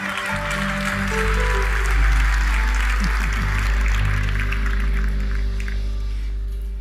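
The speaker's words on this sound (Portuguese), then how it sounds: "Palmas para Jesus." A church audience gives sustained applause, a dense, even wash of many hands clapping that stays loud throughout, with a low hum from the room underneath.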